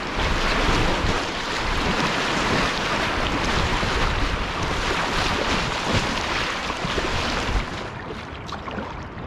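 The Stura di Demonte, a river tributary running with enough water to paddle, roars as a loud, dense, continuous rush of whitewater with wind buffeting close to the microphone, easing slightly near the end.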